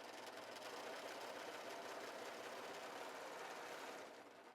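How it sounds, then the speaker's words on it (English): Viking Amber S 100 serger stitching stretchy knit along the fold at normal differential feed, a steady fast mechanical whirr running continuously for several seconds before slowing to a stop; no talking. "I'm going to just go ahead and stitch on the fold at a normal differential feed"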